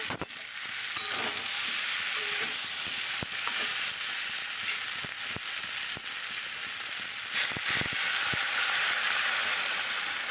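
Cauliflower and potato masala for koi fish curry sizzling and frying in a pan, with steady hiss and scattered stirring scrapes and clicks throughout, no talking.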